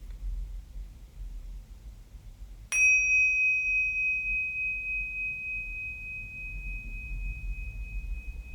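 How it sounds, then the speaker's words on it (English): A single meditation bell is struck once, ringing clear and pure, its tone sustaining and slowly fading over a soft hiss. "when you hear the bell, put your attention on the bell."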